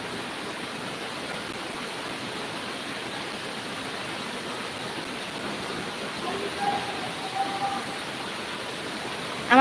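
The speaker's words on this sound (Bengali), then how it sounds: "আমার সবথেকে ভালো লাগে বৃষ্টির এই শব্দটা, বৃষ্টি যখন হয় তখন যে শব্দটা হয় এই শব্দটা শুনতে আমার খুব ভালো লাগে" Rain falls in an unbroken, even hiss at moderate volume, like a steady downpour heard from indoors, with a few faint bumps near the end.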